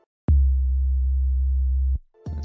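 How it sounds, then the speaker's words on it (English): A clean 808 bass sample is played raw in FL Studio, a single deep, smooth sub-bass tone holding steady for well over a second before cutting off, then a second note beginning, loud and isolated. "we've got some 808s over here, so I'll get this clean 808 maybe"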